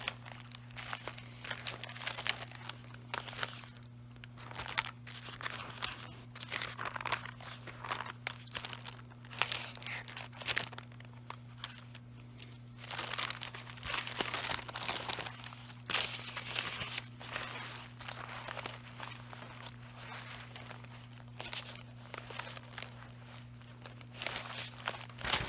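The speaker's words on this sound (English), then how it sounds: "There's a whole stack of vintage wrapping paper." A stack of vintage wrapping paper is handled, giving continuous crinkling, rustling and crumpling at close range over a steady low electrical hum, with no talk.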